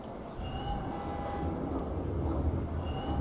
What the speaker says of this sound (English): I wonder why we're hearing the metro noises clear up on the 15th floor.